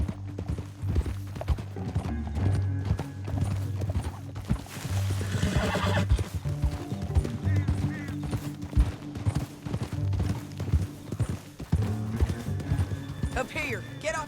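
Horses whinny and hooves clip-clop at a gallop amid a busy Red Dead Redemption 2 game soundtrack, with a voice speaking over the action.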